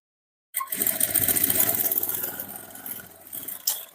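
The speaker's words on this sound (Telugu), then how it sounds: "ఇలా స్టిచ్ చేసుకోవాలి" A sewing machine stitches a blouse in a steady, fast mechanical run that starts abruptly after a moment of silence and slows near the end with a brief final burst.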